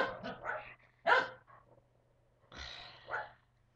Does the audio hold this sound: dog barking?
yes